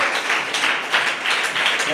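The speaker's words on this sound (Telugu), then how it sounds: "చప్పట్లు కొట్టండి కదా." A church congregation applauding, a dense, continuous burst of many hands clapping together at close range, loud and steady.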